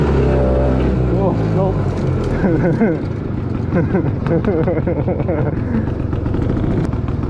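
A restored 1965 Gnat Mk1 vintage ATV engine buzzes and revs in uneven, wavering bursts while driving and slipping for traction, loud and close, with a brief spoken remark over it.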